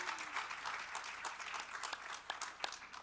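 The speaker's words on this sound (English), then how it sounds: "You can clap for that." Audience at a conference session on partnering for poverty alleviation in Pakistan claps steadily for about three seconds, a moderate, fairly quiet patter of many hands in a hall with a few sharper individual claps.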